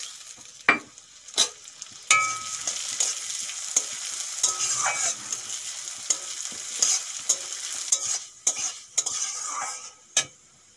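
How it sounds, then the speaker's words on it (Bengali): Mung dal frying in hot mustard oil in a wok, a close, crackling sizzle broken by repeated loud metal spatula scrapes and knocks against the pan, with no one speaking. "তেল গরম হয়ে গেছে, তেলের উপরে ভেজে নেব কিছু মুগ ডাল।"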